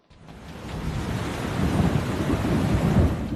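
Heavy rain pours down in a dense, unbroken roar as Cyclone Nivar arrives near Chennai, Tamil Nadu, with low thunder rumbling beneath and the downpour swelling louder over a few seconds.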